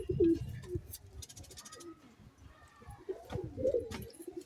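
Pigeons coo nearby in a few soft, throaty bursts, with a short lull between the first and last calls.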